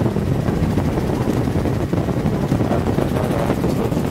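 Helicopter heard from close by over an open coastal mudflat, a loud, steady rotor and engine roar with rumbling wind buffeting, continuous throughout with no talk.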